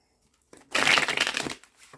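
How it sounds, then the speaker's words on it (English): A deck of cards gets one quick shuffle, heard as a close, crisp rustling burst of fluttering cards lasting under a second, followed by a few soft handling sounds. "definitely shuffle on camera"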